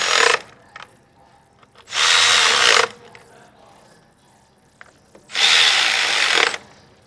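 Spark plugs on a Kia being tightened with a power tool, heard as two loud sustained buzzing whirrs of about a second each, separated by quieter pauses with faint clicks.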